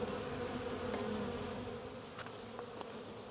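Honeybees from a freshly installed package hum in a continuous close buzz, fairly soft, with a few brief higher clicks near the end and no speech.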